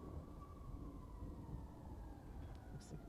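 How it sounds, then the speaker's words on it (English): A police car siren wails within a recorded song, its rising and falling tone sitting faintly behind a dense, rumbling street-noise bed. "the obligatory sounds of the streets and the police car siren going off in the background"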